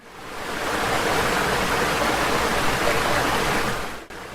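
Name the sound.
flowing river water, story sound effect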